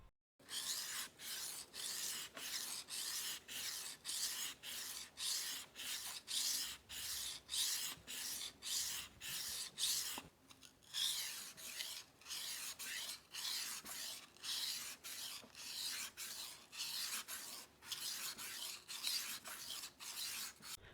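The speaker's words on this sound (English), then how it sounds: "I have worked for about 5 minutes on each side of the blade using the 1000 grit stone" A steel knife blade is stroked back and forth across a 1000 grit whetstone under firm pressure, giving a steady series of close, even scraping rasps about twice per second, with one short pause midway.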